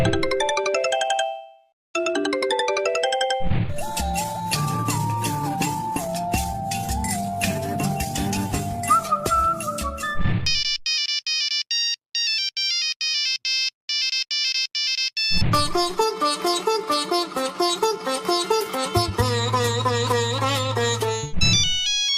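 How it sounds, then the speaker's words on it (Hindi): A run of old 1990s mobile phone ringtones plays back to back, loud and clear: bright beeping monophonic and polyphonic melodies, chiming tone sequences and ringing patterns, each separated by short pauses, with no talking. "तो चलते हैं पहली रिंगटोन की तरफ।"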